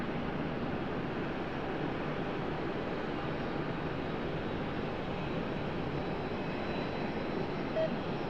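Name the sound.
Boeing 777-200 jet airliner departing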